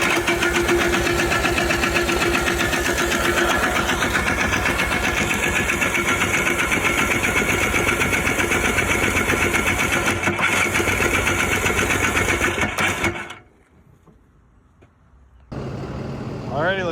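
A Polaris Trail Boss 250 4x4 ATV, pulled back from the scrap yard, runs loud and close with a steady, rattly engine drone, then drops off sharply for a couple of seconds before picking back up.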